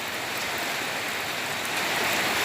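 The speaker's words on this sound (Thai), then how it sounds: "ขณะนี้ฝนก็ยังตกอยู่" Steady rain falls during a storm in northeastern Thailand, a continuous even hiss of drops on surfaces with no talking.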